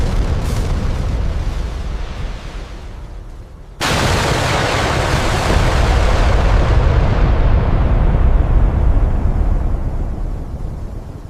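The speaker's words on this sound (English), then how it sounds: "Harpoon missile away." Harpoon missile launched during a US-Japan RIMPAC live-fire drill: a dense, loud roar that jumps abruptly into a fuller blast after a few seconds, then holds steady before slowly thinning out.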